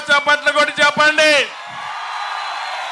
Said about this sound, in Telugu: ఆశీర్వదిస్తామని గట్టిగా చప్పట్లు కొట్టి చెప్పండి